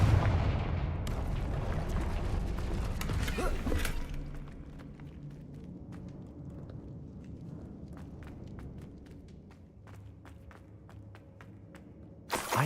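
Confringo fire spell blasts from Hogwarts Legacy open with a loud booming burst and crackle, then give way to scattered sharp pops, impacts and footsteps against quieter game ambience, ending with another abrupt hit.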